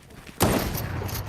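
A sudden loud gunshot blast in a video game, one sharp burst followed by a rolling, sustained echo.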